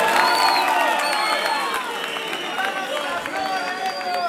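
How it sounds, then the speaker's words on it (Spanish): A live concert audience in Buenos Aires cheers and applauds. The loud, dense crowd noise is mixed with voices throughout. "un aplauso por ustedes"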